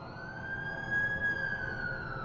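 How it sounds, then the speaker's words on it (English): An ambulance siren in the video game The Amazing Spider-Man 2 sounds a steady, loud tone that holds without a break for the whole stretch, over a low background rumble. "That's the ambulance I called."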